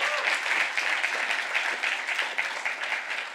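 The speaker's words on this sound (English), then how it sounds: "Can we give this guy a second round of applause?" Audience applause after a technical talk on Turing-complete computation in Bitcoin script, a dense, lively burst of many hands clapping that stays fairly loud and even throughout.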